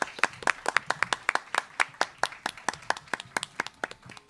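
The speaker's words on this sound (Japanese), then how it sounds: "皆様大きな拍手でお迎えください。" Audience applause welcoming three finalists onto the stage at a live ghost-story contest, with distinct claps in a brisk, fairly regular rhythm, crisp and close, fading slightly toward the end.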